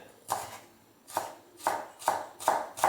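A knife finely chopping the white ends of spring onion on a board, five evenly spaced, fairly soft, close-up chops that land slightly faster toward the end, with no speech.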